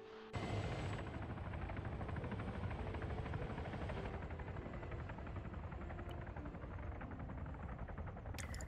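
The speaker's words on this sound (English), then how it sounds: "Helicopters are auto-aggroing." Helicopters flying in the military video game Arma 3, a steady loud rotor and engine drone that runs unbroken and close throughout, with no talk.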